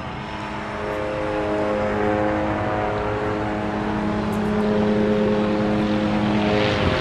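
Helicopter flying overhead, a loud steady drone with strong low harmonic hum held for the whole stretch, swelling slightly as it passes close.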